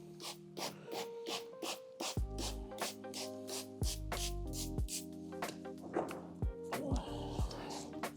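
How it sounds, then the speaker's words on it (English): Repeated short hissing bursts of iron fallout remover sprayed on a 1966 Jaguar Mk2, in a quick steady rhythm, close up, over a low background hum with tonal bleeps. "I'm going to use a iron fallout. Give it a really good generous spray."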